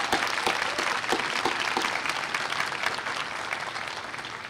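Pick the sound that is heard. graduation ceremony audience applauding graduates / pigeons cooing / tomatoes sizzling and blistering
graduation ceremony audience applauding graduates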